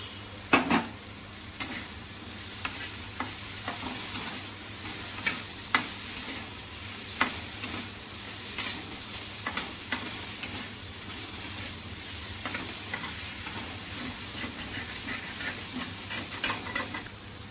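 Prawns sizzle in a hot pan while being stirred, giving a continuous close frying hiss broken by regular scraping and clattering strokes.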